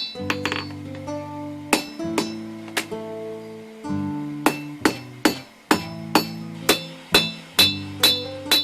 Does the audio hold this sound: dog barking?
no